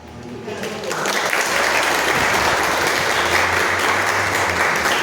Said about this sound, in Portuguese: Eu sempre falo que as palmas são para vocês, não é para mim